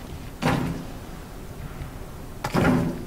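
Two short bursts of a door being rattled in Outlast: Whistleblower, each a brief clattering knock of a handle and frame, about two seconds apart with quiet between them.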